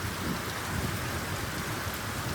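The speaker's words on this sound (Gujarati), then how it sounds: "જો કડાકો થયો" A thunderstorm brings heavy rain and wind as a loud, steady wash of noise, with a low rumble of thunder beneath it.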